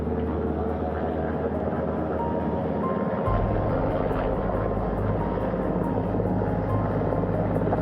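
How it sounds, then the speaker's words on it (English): Helicopter coming in to land on a ship's flight deck near the bow, a loud, continuous rotor and engine roar that deepens and grows heavier partway through, with steady wind and machinery noise. "The first helicopter coming in."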